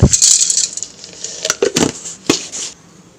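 Roasted gram is tipped into a mixer jar for a brinjal masala, giving a few quick, close, light rattling clatters of small dry pieces hitting the jar.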